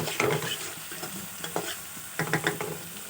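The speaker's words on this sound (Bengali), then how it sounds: "এখন ভালো করে মিশিয়ে নিয়ে আর কিছু সময় কষাতে হবে" Spice masala with Kashmiri chili powder fries and is stirred in a pan, giving bursts of scraping and clattering over a continuous sizzle. Nobody talks.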